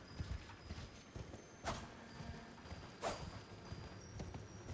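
In the Elden Ring video game, a horse's hooves clip-clop in a rapid galloping rhythm, with a couple of louder whooshing bursts standing out over the steady beat, no talking.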